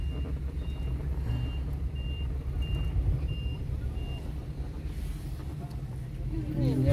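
A truck at a B2 driving test centre in Hai Phong reverses with a regular series of high backup beeps over a low rumbling engine, while an instructor talks during the manoeuvre.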